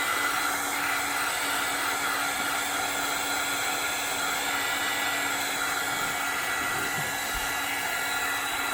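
A heat tool blows hot air to dry ink on a craft bag, giving a loud, steady, hissing whir that holds unchanged for several seconds, close up and with no voices.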